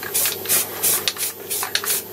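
Repeated short bursts of aerosol spray paint hiss close up as 4-pot Brembo brake calipers are refinished in a makeshift spray booth, a rhythmic series of bright sprays separated by brief pauses.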